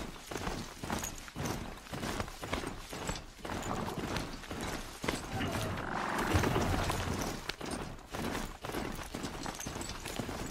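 Horse hooves in Horizon Zero Dawn beat a steady, rhythmic clip-clop while riding, close and fairly even, with faint mechanical game sounds behind.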